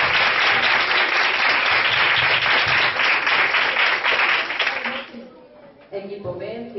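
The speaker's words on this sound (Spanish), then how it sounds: "Muy bien, un aplauso para ellos." During a Spanish school quiz competition, the audience gives a quiz team a burst of loud, dense applause that lasts about five seconds and then fades, leaving a voice speaking afterward.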